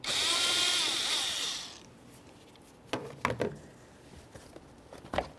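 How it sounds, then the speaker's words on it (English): A clamp on the air inlet tube of a 2012-2018 Nissan Altima 2.5L is loosened with a power driver, a loud buzzing whir for under two seconds, followed by a few close clicks and clatters of the tool and parts. "Use an 8mm or flathead screwdriver, loosen this clamp."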